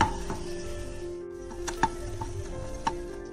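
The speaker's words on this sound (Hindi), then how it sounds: "अब हम इन्हें एक बाउल में निकाल लेंगे" Roasted dry fruits scooped out of ghee into a bowl, with soft scraping, a faint sizzle and a few sharp clinks of a spoon against metal, close and quiet.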